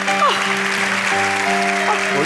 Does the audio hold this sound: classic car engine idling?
no